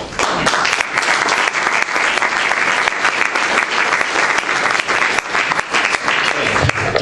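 An audience applauds steadily and loudly for a speaker at a talk on development and Indigenous communities. The dense clapping fills the room throughout, with no voices over it.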